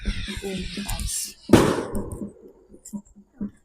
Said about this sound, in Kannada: ಪಟಾಕಿ ಎಲ್ಲ ಹೊಡಿತಾ ಇದ್ದಾರೆ.